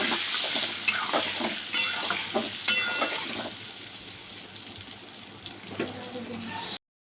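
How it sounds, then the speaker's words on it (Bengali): Eggplant pieces fry in oil with a little salt and turmeric, a steady close sizzle with a few sharp clinks of stirring, ending abruptly. "বেশ লাল লাল করে বেগুনটা ভেজে নেব"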